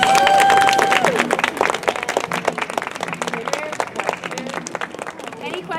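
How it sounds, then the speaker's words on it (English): A room of elementary school children in Atlanta claps in a lively round of applause, dense and fairly loud at first and then thinning into scattered claps, with a voice and some chatter over the top. "You guys give them a round of applause."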